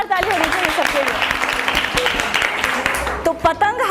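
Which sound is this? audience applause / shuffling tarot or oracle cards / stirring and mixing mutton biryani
audience applause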